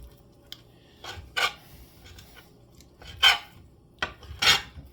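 A knife slices food by hand while soup is made, giving several short rasping cuts spaced unevenly, close and fairly quiet.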